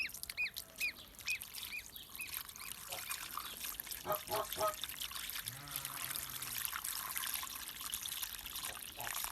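Fresh water trickles and pours in a steady stream outdoors, with geese honking and quacking in the background.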